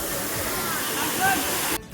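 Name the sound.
waterfall at Sajek Valley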